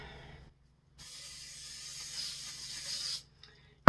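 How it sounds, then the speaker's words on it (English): A spray bottle hisses a steady mist of oil onto chicken wings before air frying, one continuous spray of about two seconds after a short earlier burst, close and fairly soft. "Let me spray some of this on there."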